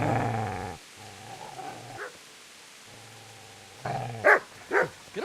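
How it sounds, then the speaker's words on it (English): A dog in the Kingdom Come Deliverance video game growls low and sustained, then breaks into a couple of sharp, loud barks, close up with no talking. "Get away, you mutt!"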